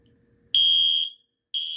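A Mini Exceeder fire alarm blares a loud, piercing continuous tone after a faint rumble, cuts out for a moment, then starts sounding again.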